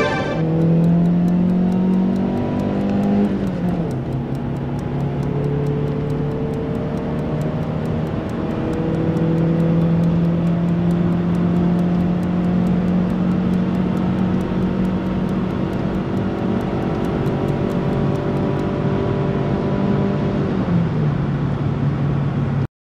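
A 2004 Mitsubishi Space Star 1.3 compact MPV's engine hums steadily while driving, its pitch climbing through the gears with brief shifts, constant road and wind noise underneath.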